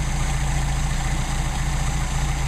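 A Mercedes-Benz 190SL engine with Solex carburetors idles steadily with a low, rhythmic rumble, close and continuous, with no other sounds.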